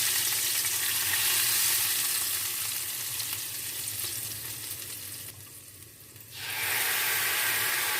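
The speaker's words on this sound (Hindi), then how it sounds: "अभी हम कड़ी को तड़का लगा लेते हैं।" Cumin and onion tadka poured onto kadhi sizzles in a steady, dense hiss that eases briefly near the end, then surges back to full strength, with no talking.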